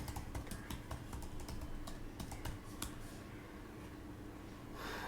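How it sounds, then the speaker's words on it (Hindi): Keys clatter on a computer keyboard as a domain name is typed into a web domain checker, a steady run of close, crisp clicks with a few louder strikes, fading slightly near the end. "यहाँ पे आप टाइप करेंगे"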